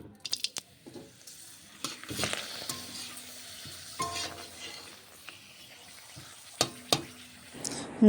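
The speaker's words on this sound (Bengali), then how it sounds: "পাঁপড় ভাজা হচ্ছে গরম গরম পাঁপড় ভাজা" Papad fries in hot oil in a home kitchen with a soft, continuous sizzle. Scattered stirring scrapes and light metal clinks from the pan break through it, all fairly quiet, with no talk.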